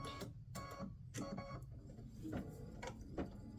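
An embroidery machine stitches a bow earrings design, a faint, steady mechanical whir with rapid clicking needle strikes, heard alone.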